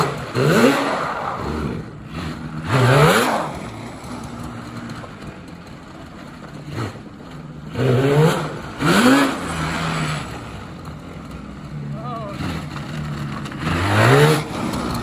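A Yamaha Banshee engine idles roughly, then revs up in repeated throttle blips that rise and fall in pitch, loud and close, with short idling gaps between bursts.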